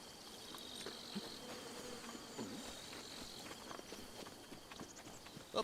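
Angry bees buzzing in Zelda: Breath of the Wild, a steady insect-like drone running through the whole stretch with a few light footstep-like taps, no talk over it.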